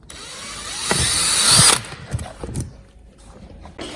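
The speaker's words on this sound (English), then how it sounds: "So now that I drilled the hole, I'll get the fixing." Power drill boring a hole for a fixing while fitting a GBS Zero Gen 2 boot cover on a Zero, a loud whirring burst of about a second, then quieter handling knocks and taps.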